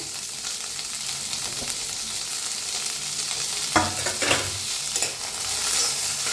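Green peas and chickpeas dry-roasting in a pan with garlic and green chillies give a steady close sizzle, with a few louder spatula scrapes and stirs around the middle; no one speaks.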